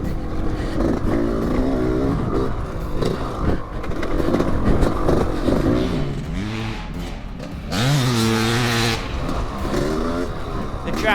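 A motocross bike, either a Yamaha YZ or a Cannondale MX400, laps the Greenfield dirt track, its engine rising and falling in pitch through revving bursts while a person talks over it.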